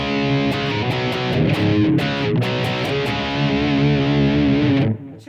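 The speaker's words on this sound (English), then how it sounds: "So here's Super Crunch." Electric guitar through a Blackstar ID:Core 20 V3 amp on the Super Crunch preset, loud distorted chords ringing continuously with a few sharp strums, alone, ending in a quick cutoff.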